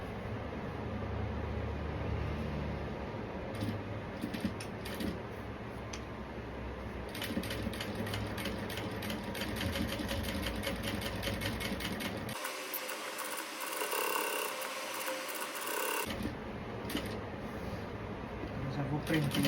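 A sewing machine fitted with a Teflon presser foot stitches a seam on a pocket flap, rapid mechanical whirring in bursts with brief pauses, close up and fairly quiet, with someone talking over it.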